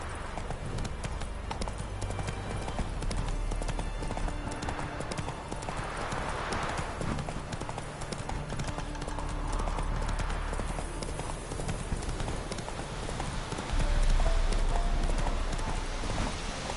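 Horse hooves clip-clop in a steady walking rhythm in The Witcher 3 video game, close and continuous, with a brief whinny-like swell midway and some game ambience underneath.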